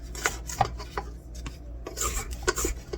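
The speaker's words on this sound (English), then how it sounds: "I'm going to give it a scrape." A handheld kitchen scraper rasps across a surface while cookie dough is being made. Several short, soft scraping strokes sound close and quiet, with no talking.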